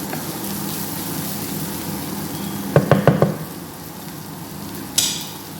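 Onions sautéing in a pan on a home kitchen stove, a steady sizzle and frying hiss with a few quick stirring knocks of a spoon against the pan.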